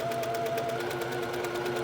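A sewing machine runs a quarter-inch seam with long stitches on half square triangle quilt pieces, a fast steady whirring rhythm heard up close and alone, with no voices.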